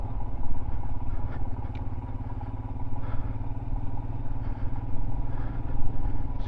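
A 2023 Royal Enfield Himalayan 411 motorcycle rumbles steadily on the road, its engine a continuous low drone with wind and mechanical clatter throughout, close and fairly loud.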